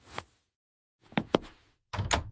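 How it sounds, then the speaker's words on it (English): A door is handled and opened nearby: a soft knock, then two sharp thunks of the latch and handle, and a final heavier clatter as it swings, with quiet gaps between. "Open the door."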